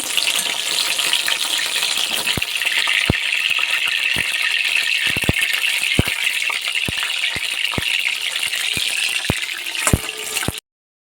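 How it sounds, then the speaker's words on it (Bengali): A batch of chicken pieces fries in hot oil with a loud, continuous sizzle, punctuated by a dozen sharp spatters and rattles spread irregularly throughout, with no voices. "পরের ব্যাচটা ঠিক এইভাবেই ভেজে নেব"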